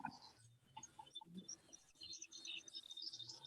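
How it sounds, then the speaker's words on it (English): Several small birds chirp and tweet in short, bright bursts throughout, fairly faint and a little distant, with no talking. "I hear birds."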